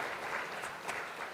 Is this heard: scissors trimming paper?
no